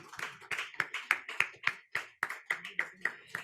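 Audience applauding award winners at a Mumbai education partnership ceremony, with a dozen sharp, evenly spaced bursts of clapping at a moderate distance in an indoor hall.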